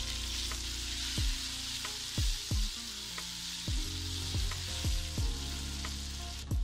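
Tomato paste sizzles in a hot pan with ginger garlic paste, a steady close frying crackle broken by several thumps and scrapes from stirring.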